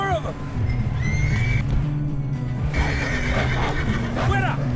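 Horses in Red Dead Redemption 2 whinny and neigh in rising, wavering calls amid clip-clopping hooves and game ambience, with voices talking over them.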